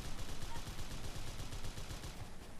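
Rapid gunfire in the video game Dino D-Day, reportedly from a Ruger, a dense continuous stream of shots over a busy noisy game mix, loud and sustained with no clear pauses.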